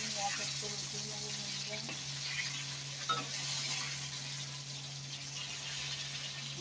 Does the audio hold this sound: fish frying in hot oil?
yes